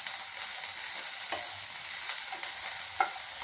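Drumstick leaves stir-fried in a pan, a soft continuous sizzle with a few scattered scrapes of the spatula, close and fairly quiet.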